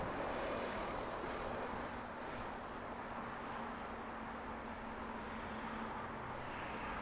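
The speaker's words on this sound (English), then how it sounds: "Next heavy arrival, number 3 to land, here on the north side, Virgin Atlantic flight 158, A350 1000 in from Boston." Virgin Atlantic Airbus A350-1000 jet arriving to land at Heathrow, heard as a steady, distant engine roar with broad airflow rumble that holds evenly throughout, no voices.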